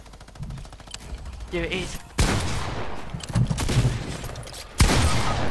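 A minigun fires in a shooting video game, sustained rattling bursts building and then returning louder with a sharp boom near the end, mixed with excited players talking over it.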